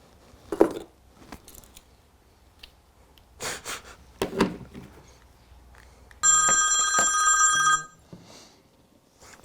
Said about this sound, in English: That'll be the phone then.